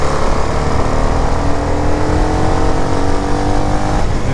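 A CFMOTO 300SR Sport motorcycle accelerates on the road, a loud, close engine drone with rising tone buried in heavy wind rush throughout.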